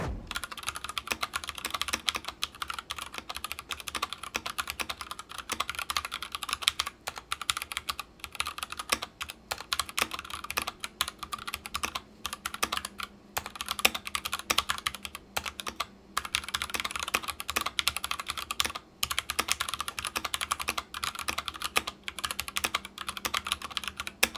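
Continuous fast typing on a clicky Clix X Matrix mechanical keyboard, dense rattling keystrokes with brief pauses, close and steady throughout.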